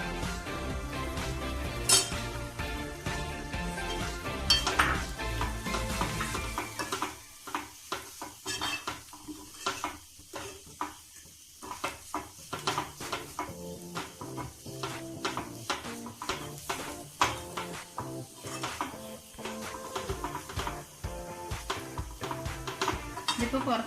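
A utensil scrapes and clinks steadily against a pan while dried pineapple is stirred, a rapid irregular rhythm of close metallic taps, with a brief sizzle early on.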